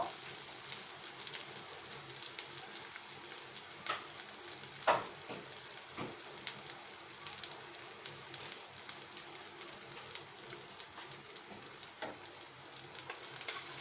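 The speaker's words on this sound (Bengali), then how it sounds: "আমরা খুব ভালো করে ভেজে নিচ্ছি" Spiny gourd (kakrol) frying in a pan gives a steady soft sizzle with a few scraping stirs and one sharper clink midway, close but fairly quiet, no voices.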